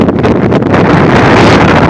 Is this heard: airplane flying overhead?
no